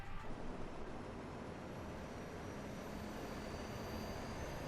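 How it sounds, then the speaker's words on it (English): Simulated A320neo airliner jet engine spooling up during start in Microsoft Flight Simulator, a steady broadband roar with a faint high whine, constant and even throughout with no talk. "Got the engine starting."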